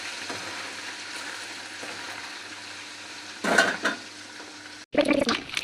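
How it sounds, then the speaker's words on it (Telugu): Chicken pieces fry in hot oil until brown for a chicken pickle, with a steady close sizzle running throughout, broken by two louder bursts of stirring and clattering against the pan. "ఈ చికెన్ అంతా మంచిగా బ్రౌన్ కలర్ వచ్చేదాకా ఫ్రై చేసుకున్నాం."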